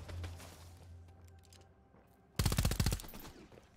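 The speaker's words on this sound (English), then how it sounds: "Oh, he's just shooting." Automatic gunfire in Vampire: The Masquerade - Bloodhunt: a short, loud, rapid burst of about ten shots lasting over half a second, following quieter rumbling game ambience.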